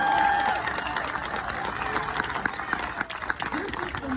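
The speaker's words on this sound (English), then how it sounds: "That's applause." A crowd at a softball national championship celebration for the 2021 Oklahoma Sooners bursts into sustained applause with cheering, loud and continuous throughout, with voices mixed in.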